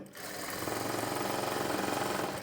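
A sewing machine stitches cloth piping with a steady, fast, continuous mechanical whir that runs close and loud without pause, with no talking over it.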